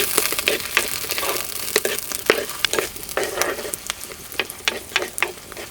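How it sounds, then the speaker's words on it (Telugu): Finely chopped onion frying in two spoons of hot oil in a village cooking pot crackles and sizzles steadily, with sharp popping bursts and stirring scrapes repeating close by. "నూనె వేడెక్కగానే చిన్నగా కోసి పెట్టుకున్న 1 ఉల్లిపాయ ముక్కలు వేసుకుందాం."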